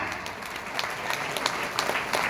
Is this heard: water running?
no